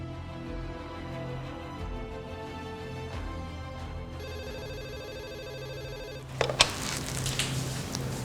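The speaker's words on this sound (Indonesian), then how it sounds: "Aku coba telepon sekretaris papa deh." Telephone ringing as a call is placed, a repeating electronic ring tone over a background music bed before the call connects with a burst of louder sound.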